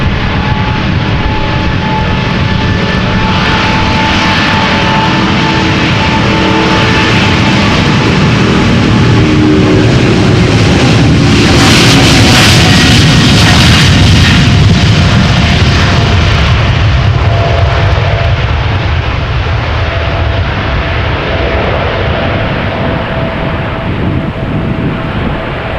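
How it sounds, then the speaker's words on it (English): A KLM Boeing 777-200ER departing Amsterdam Schiphol for Calgary, a loud continuous jet roar with tonal whines that swells to a peak midway, then slowly recedes. "677, 777-200 going to Calgary, Canada. 777-200 ER, 16 years old."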